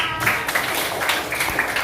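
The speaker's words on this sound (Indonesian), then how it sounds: "Tepuk tangan untuk kelas 4A" A class of fourth-grade pupils applauds after a science experiment lesson, a dense, steady patter of many small hands filling the room, with children's voices mingled in.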